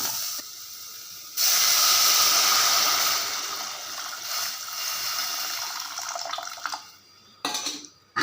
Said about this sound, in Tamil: இப்போ புளி தண்ணியை எடுத்து நம்ம ஊற்றிடலாம்